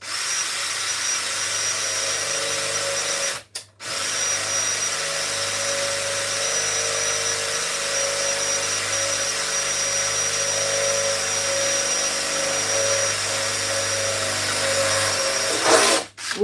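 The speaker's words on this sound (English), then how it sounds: "We're just going to drill." A power drill whirs steadily into a Yamaha DD5 drum machine, a continuous close, mid-loud motor drone that briefly stops near the start and again at the very end.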